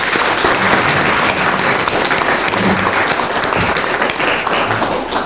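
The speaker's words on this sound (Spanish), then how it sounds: "Un aplauso." A seated audience at an agroecology talk in San Cristóbal de las Casas, Chiapas, applauds to thank the speaker. The clapping is loud, dense and sustained, filling the whole stretch evenly.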